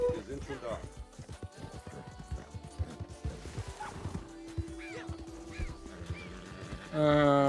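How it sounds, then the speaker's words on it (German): Horses gallop with rapid clip-clop hoofbeats and neigh several times in a video game, amid scattered crashes and game effects, with a burst of louder sound at the end. "Pferde."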